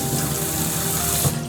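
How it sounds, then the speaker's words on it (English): Municipal tap water pours steadily into a sink as soaked black beans are rinsed, a constant close rushing splash with no pauses. "This is just normal municipality water that's coming from the tap"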